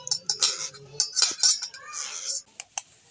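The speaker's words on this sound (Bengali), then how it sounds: "গরম থাকতে থাকতেই ম্যাশ করে নিতে হবে।" A metal utensil mashes hot food in a kitchen pan or bowl, producing a quick run of scraping clinks and taps over about three seconds, close and fairly loud.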